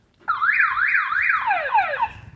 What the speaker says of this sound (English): you turn your box on, you got to ring your alarm.